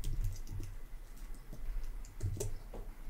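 A computer keyboard being typed on while building a table in Notion: a close, steady run of light key clicks with a few heavier taps, and no voices.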